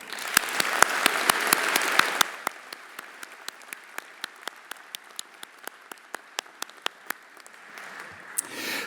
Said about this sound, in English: join in a round of applause for all those who have made this day possible